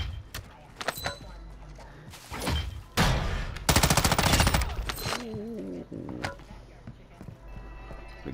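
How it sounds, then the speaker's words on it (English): Rapid gunfire bursts from a Rambo video game, a dense loud volley in the middle with scattered shots before and after, under game voices and player chatter. "The gunfire stopped."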